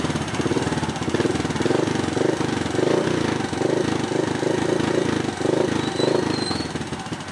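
A Honda XRM125 motorcycle engine runs after carburetor tuning, revved in a string of short rhythmic bursts over a steady mechanical chatter. The engine is close and fairly loud.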